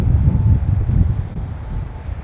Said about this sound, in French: là, le vent, il rentre bien dans le micro normalement